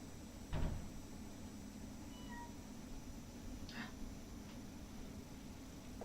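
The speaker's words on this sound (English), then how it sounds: "Got a meow." A single short meow from a cat sounds faintly against a quiet, low background hum, followed by a few soft indistinct noises.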